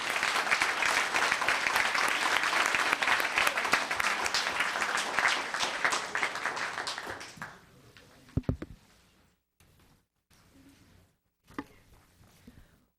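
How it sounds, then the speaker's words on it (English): A round of applause fills a town council meeting chamber for about seven seconds, dense and steady, then stops abruptly, leaving a quiet room with a few scattered thumps and small noises. "Another round of applause."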